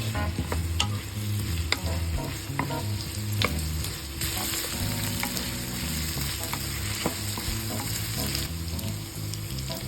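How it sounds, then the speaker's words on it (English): Garlic, onion and potatoes sizzle and fry in a pan for a fish caldereta, with a loud, constant crackle broken by the repeated scrape and clatter of stirring. "in another pan, we saute garlic and onion. And then, we add the potatoes."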